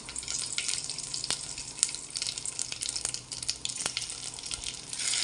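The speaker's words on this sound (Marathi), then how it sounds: "मोहरी आपली तडतडली बघा। आता आपण कढीपत्ता टाकू" Curry leaves hit hot oil where mustard seeds have already popped, tempering for a spicy amti. The sizzle is a fairly quiet, continuous hiss with several sharp crackles and pops.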